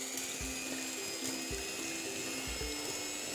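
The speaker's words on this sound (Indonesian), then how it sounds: "Sekarang kita akan mixer putih telur." An electric hand mixer whips egg whites with salt in a bowl, giving a constant whirring motor hum with faint periodic thumps as the beaters knock the bowl.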